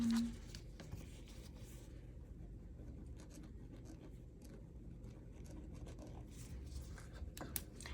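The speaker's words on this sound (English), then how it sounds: "I'm gonna write that down." A pen or pencil writes notes by hand during a mid-century Coro daffodil brooch restoration, a faint, steady scratching on paper set against a low background hum.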